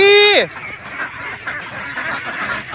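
Free-range domestic ducks give a loud, close honking quack at the start, followed by softer scattered quacks and farmyard murmur in the background.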